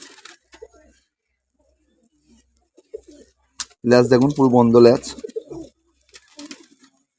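Short-sized teddy pigeons coo loudly and close by in a strong rolling burst lasting about a second, with softer coos and someone talking quietly before and after.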